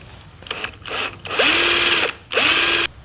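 A power drill bores a hole for quarter panel armor bolts on an off-road vehicle, several short bursts of high whining with the motor revving up and down, close and loud, no talk.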